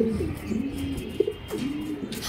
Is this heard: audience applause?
no